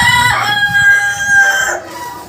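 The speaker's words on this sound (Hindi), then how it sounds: "बाहर निकल रही है सब मुर्गी एक एक मतलब।" Chickens being let out of their coops cluck and crow repeatedly, with a clear rooster crow in the first half over steady coop commotion, close and fairly loud.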